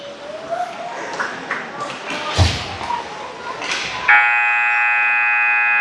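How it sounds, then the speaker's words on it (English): A steady, flat electronic buzzer sounds for about two seconds at the end of a hockey game, after a stretch of muffled thumps and crowd noise. "There's the official buzzer"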